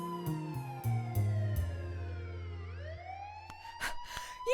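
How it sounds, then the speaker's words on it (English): Police car sirens wail in rising and falling sweeps with short stepped tones, loud and close, then wind down before starting up again. "That's when the sirens of police cars were heard."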